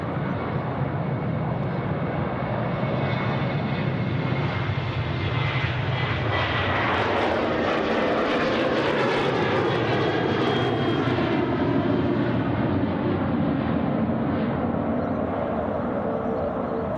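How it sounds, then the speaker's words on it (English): A Qantas Boeing 737 rolls down runway 34 right at Sydney Airport and lifts off, its engines a steady, loud roar that sweeps and shifts in pitch as the jet passes, with no talk over it. "And now we turn our attention to the Qantas 737 on screen. About to rotate here at runway 34 right."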